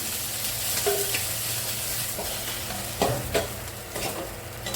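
Fish frying in oil in a pan, a steady close sizzle with a few sharper crackles and spatter bursts near the end, no talking.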